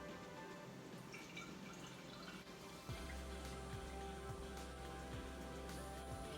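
Homemade water kefir drips and trickles through a strainer, faint at first, then a steadier run of liquid with occasional soft drips.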